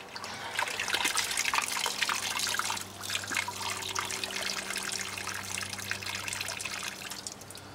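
Water streams and trickles steadily out of a soaked natural sea sponge used for window cleaning, a close, continuous splashing dribble that eases slightly toward the end.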